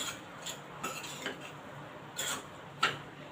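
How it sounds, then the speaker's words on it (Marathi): A spoon scrapes and clinks a few times against a pan while salt is stirred into cooked takla leaves, a wild monsoon vegetable. The taps are faint and scattered over a quiet background. "आपण मीठ घातले मिक्स करून घेऊया"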